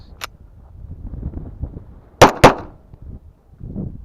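Pistol loaded with Remington 147 grain ammunition from a Wilson Combat magazine fires two sharp, loud shots in quick succession, amid quieter handling noises and low background sounds.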